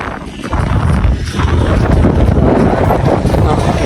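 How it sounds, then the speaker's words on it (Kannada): Strong gusts of wind at a hilltop viewpoint near Chintamani buffet the microphone, producing a loud, continuous low roar with rough rumbling flutter that barely lets up. "ಗಾಳಿ ಜಾಸ್ತಿ ಗೈಸ್"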